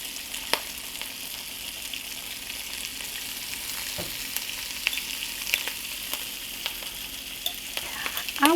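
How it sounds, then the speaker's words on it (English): Sauerkraut is added to smoked sausage and potatoes frying in a pan, producing a constant close sizzle with scattered crackles and small pops, and no one speaking. "I think it's time to add my sauerkraut in now"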